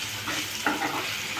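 A spoon stirs chicken with garam masala in a frying pan, the low sizzle running steadily with a brief scraping clack partway through, close and fairly quiet with no talking.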